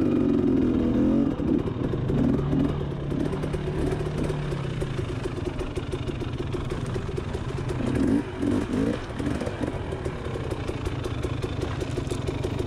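Motorcycle on a trail at Rabbit Valley, a continuous rumbling engine at low revs with a few brief surges, close up and unbroken, no talking.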